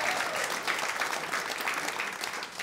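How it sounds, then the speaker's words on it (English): Comedy club audience at a stand-up show in the Pleasance clapping steadily, a dense, even wash of applause that holds at a constant level for a few seconds with no voices above it. "Give her a huge round of applause."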